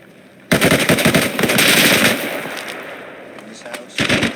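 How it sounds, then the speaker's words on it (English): Gunfire in the military video game Arma Reforger: loud, dense automatic bursts and rapid shots start abruptly, trail off, then return briefly near the end, with voices talking over the game. "when they're shooting like that, I can't hear shit."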